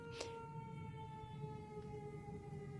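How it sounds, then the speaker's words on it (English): A distant siren holds a steady wailing tone, faint and continuous, with soft ambient noise around it. "right now I hear a siren"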